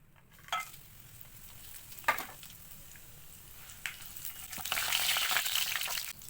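Whole spices such as fennel, cinnamon, cardamom, cloves, bay leaf, star anise and stone flower frying in hot oil for a mutton varuval gravy: a soft, quiet sizzle with a few light clinks and stirring scrapes, swelling slightly near the end.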